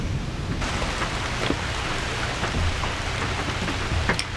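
Rain falls outdoors near a trailer on a rural property, a steady broadband hiss with scattered sharper drops tapping throughout, and no one speaks.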